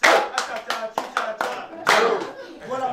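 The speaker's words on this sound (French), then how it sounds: "On applaudit pour qui?" Applause from a crowd at a foundation gathering: a short burst of loud, close hand clapping in uneven waves with a few voices mixed in.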